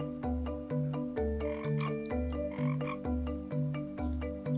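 A frog croaks in a steady, rapid series of about a dozen loud, resonant, pulsing calls at regular intervals, close and clear with no voices.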